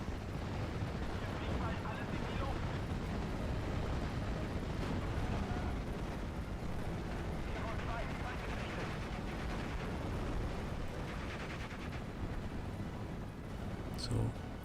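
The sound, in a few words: tank and mortar fire in Steel Division: Normandy 44 video game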